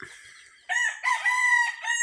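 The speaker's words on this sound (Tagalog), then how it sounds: "So nagtilaok yung manok natin." A game fowl rooster crows loudly and close by, a long drawn-out call following a short opening note.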